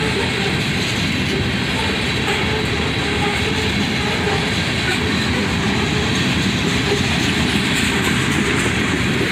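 A heavy loaded ore train with a distributed power unit rumbles past at close range, its railcars producing a loud, unbroken roar and clatter of wheels on track.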